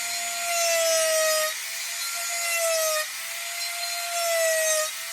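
A rotary carving bit cuts into wood while shaping a carved mouse figure, making a whining, grinding buzz in three sustained passes of about a second and a half each, separated by brief drops in intensity.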